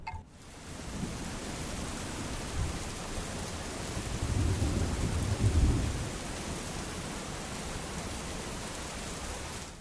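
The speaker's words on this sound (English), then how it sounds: "We have thunderstorm." A thunderstorm with steady rain hiss and low rumbling thunder that swells in the middle of the clip, then settles back into constant rainfall.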